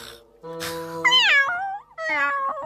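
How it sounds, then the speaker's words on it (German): A cartoon cat meows twice, each call long and wavering, loud and close, with a short pause between them and no talking. "Raffzahn hat meine Mieze geärgert."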